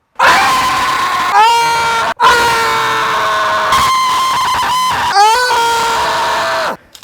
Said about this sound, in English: I'm gonna yell really loud